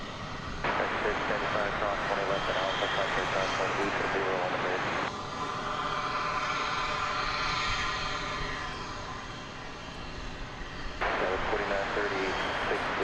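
An Airbus A319 airliner passing at DFW Airport, a steady broad engine roar with whining tones that stays loud and distant-to-near throughout, without speech.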